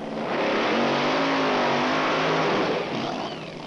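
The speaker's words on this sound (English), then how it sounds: "Drag racing and the Sitko family go hand in hand." A drag racing car engine revs hard at a speedway, a loud sustained roar climbing in pitch and then easing off, close and alone.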